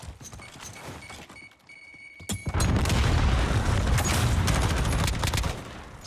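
A grenade blast in Call of Duty during a competitive esports match, a loud, broad boom that bursts after a brief quieter moment and rolls on for several seconds with crackling debris and gunfire, no voices.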